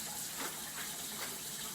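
Running tap water splashing onto a dish in a kitchen sink, a steady hiss of flowing water heard quietly and continuously, with no talking.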